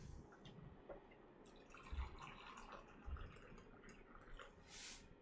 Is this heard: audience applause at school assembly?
no